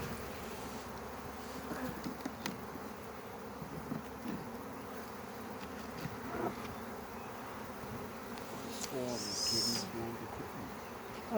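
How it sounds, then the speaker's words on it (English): Honey bees fly around their hive while a spring colony, a swarm that settled there years before, is moved into a new box. They make a continuous close droning buzz, with a brief bright chirp near the end. "You can see the bees are coming in and going, where's our nest gone?"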